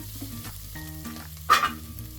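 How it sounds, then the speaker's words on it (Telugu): Onions frying in a pan for chicken biryani, a steady close sizzle with a brief louder hiss and stirring scrape midway, over faint background tones. "ఆనియన్ వేసుకొని ఇలా కొంచెం ఫ్రై అవనిద్దాం"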